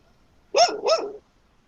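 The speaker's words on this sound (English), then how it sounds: "I'm going to move away from this dog." A dog nearby gives two quick, close barks in a row, then goes quiet.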